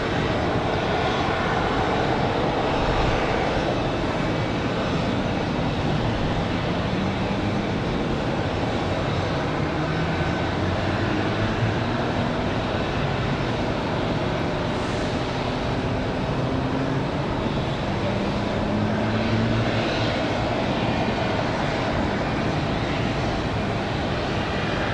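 A Republic Airways Embraer E175 jet airliner at Raleigh-Durham airport on a windy day, a loud continuous engine roar with slowly shifting tones, heard at a distance through wind, no talk.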